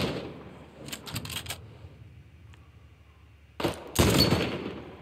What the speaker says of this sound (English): I want to make sure that you're getting crisp audio from all of these gunshots